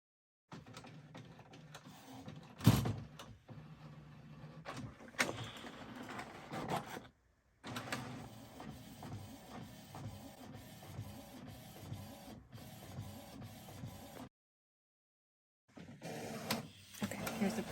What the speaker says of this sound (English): And now I'm going to go back to my computer and I can click start printing.